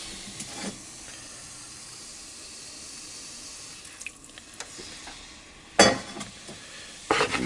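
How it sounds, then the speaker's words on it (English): Sauce hitting a hot shrimp pan on the stove as it is deglazed, giving a soft continuous sizzle and steam hiss with a few sharp stirring scrapes and clatters, the loudest near the end. "we're going to put a little more sauce in. And we're going to deglaze this pan"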